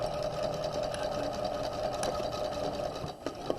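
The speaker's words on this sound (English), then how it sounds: "I'm sewing the underarm of the sleeve" A sewing machine runs steadily, stitching the underarm seam of a raglan sleeve. The close, even mechanical hum continues without a break, with a couple of small knocks near the end.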